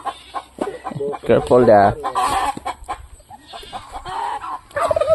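Chickens cluck and a turkey gobbles on a farm with grassy ground where a turkey lays eggs, nearby bursts of calls overlapping, with a person speaking briefly among them.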